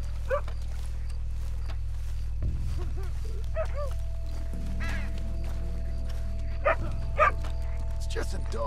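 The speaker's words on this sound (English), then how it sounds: "It's just a dog." Dog barking and whimpering in the video game Red Dead Redemption 2, several short yips and barks at moderate distance, scattered over a steady low background drone.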